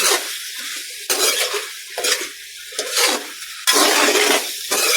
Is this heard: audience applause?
no